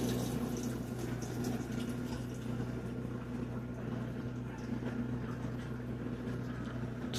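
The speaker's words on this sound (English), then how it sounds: "now it's adding water" Water rushes steadily into a Whirlpool Amana washing machine filling during recalibration, over a constant low mechanical hum, with no voices.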